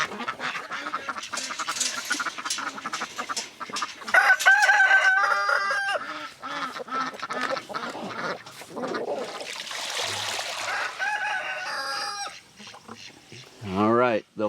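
Chickens clucking and a rooster crowing mixed with duck-like quacks in a wet farmyard flock, with a voice speaking among the birds, loud and close throughout.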